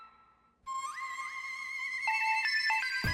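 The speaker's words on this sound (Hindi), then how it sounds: "एक और क्लाइंट का फोन आ गया।" A phone ringtone starts abruptly and plays a rising electronic melody, clear and moderately loud against a quiet background.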